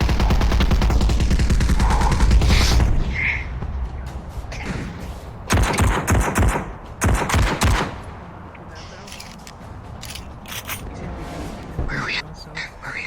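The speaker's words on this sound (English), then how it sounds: "The sound of heavy gunfire ricochets around you." Heavy gunfire crackles in rapid bursts amid shouting voices, with loud clusters of shots and quieter gaps between volleys.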